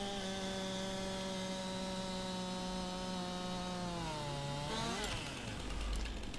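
A chainsaw in Farming Simulator 19 drones at a steady buzzing pitch as it cuts a tree. The pitch sags near the end, then breaks into a rough, noisy grind.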